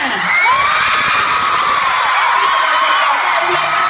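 A dense crowd of fans at a concert screams and shrieks continuously at high pitch, loud and sustained throughout with no pauses.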